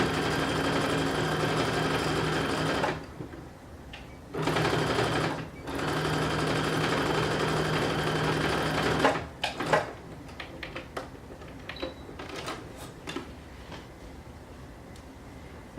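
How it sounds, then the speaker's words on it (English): A sewing machine stitches a seam on a garment in close, loud runs of rapid mechanical whirring, broken by short pauses, then stops, leaving scattered clicks and handling sounds. "continue to sew down to the end."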